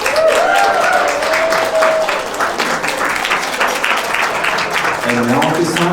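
Wedding guests give a big round of applause, a dense, sustained clapping wash close by, with voices talking over it throughout.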